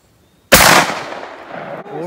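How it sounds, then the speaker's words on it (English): A single loud, close blast from a .410 shotgun firing a homemade slug cast from a .41 Magnum bullet, cutting sharply out of silence and trailing off in an echoing outdoor decay. "I'm going to shoot that."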